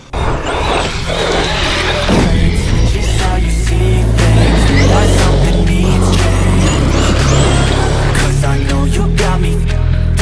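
A modified Traxxas X-Maxx RC car is driven around hard, its electric motor whining loudly and near. The pitch surges and drops continuously as it accelerates, with tire scrabble on the ground and no voices.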